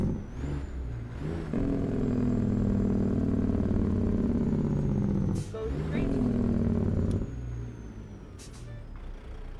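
Loud, steady engine-brake rumble from a heavy truck's Jake brake set to full in American Truck Simulator, droning for several seconds with a brief break, air-brake hiss bursts, and a voice talking over it.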